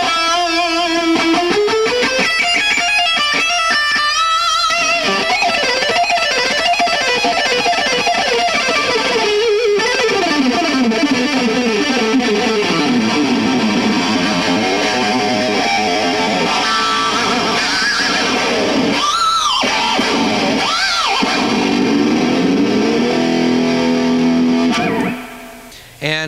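A fast, distorted electric guitar riff of rapid picked notes and sweeping runs, heavily effected and loud, playing continuously without talk before cutting off at the end.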